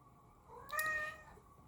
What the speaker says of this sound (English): my cat is yelling